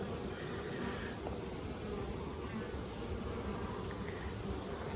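Honey bees buzz steadily in an open hive during a honey super and queen check, a dense, continuous hum filling the whole stretch at close range with no talk over it.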